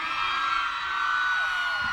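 Concert crowd at a sound clash anniversary celebration screaming and cheering continuously, a dense, loud wash of whoops and yells sustained throughout.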